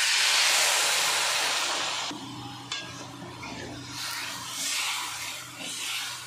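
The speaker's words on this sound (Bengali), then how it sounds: "চিনিটা দিয়ে একটু নাড়াচাড়া করে নিলাম। এবার দিয়ে দেবো জল।" Water pours into a pan of hog plums and sugar for a sweet-sour murabba, a loud steady hiss and rush for about two seconds, then quieter bubbling and sizzling that swells and fades.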